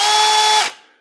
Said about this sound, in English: I've got my drill here.